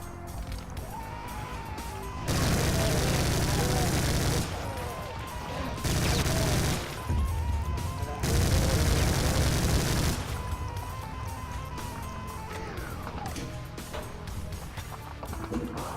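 Sustained gunfire from a weapon in the video game Brutal Doom comes in loud, dense bursts of several seconds each, broken by short pauses, over a steady background of game sound.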